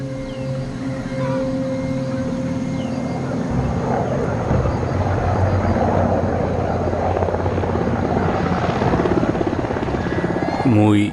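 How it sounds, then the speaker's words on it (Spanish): A helicopter's rotor thrums steadily throughout, a constant droning whir that swells gradually louder as it draws nearer. "Lo que se escucha en la distancia es un helicóptero de Naciones Unidas que recorre el bosque"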